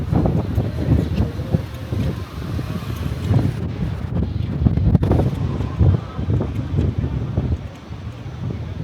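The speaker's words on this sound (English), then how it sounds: "Now, it's a lot more windy up here than it is at the bottom pools." Steady, rough wind buffeting the microphone at a hilltop pool area in Las Vegas, with low rumbling gusts throughout and no clear speech.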